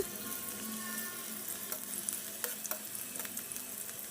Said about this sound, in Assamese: এতিয়া পিঁয়াজখিনি ভালদৰে লৰাই দিম